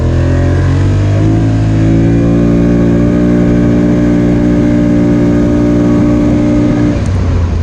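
A 2020 Polaris Scrambler 1000 S ATV engine drones loudly and steadily while riding on a chilly day at a poker run, with a rich harmonic hum that shifts pitch near the end.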